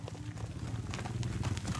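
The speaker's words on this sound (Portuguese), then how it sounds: "É só chegando a cavalo aqui, trazendo gado pra Feira de Arara" Horses arrive at a cattle and livestock fair in Arara, Paraíba, Brazil, their hooves making rapid, close clip-clop beats over a busy outdoor background.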